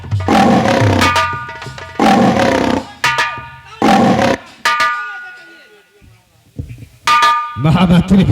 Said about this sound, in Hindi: सुना वो शेर दहाड़ रहा है